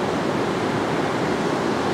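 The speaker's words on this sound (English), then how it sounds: "Oh man, here comes the water." Surf washes onto a beach in a continuous broadband rush, loud and close, steady for the whole stretch with no voices.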